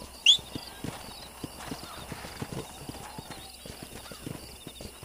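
Steady hoofbeats of a horse clip-clopping closer in the video game Red Dead Redemption, with a brief whinny near the start and a faint low hum underneath.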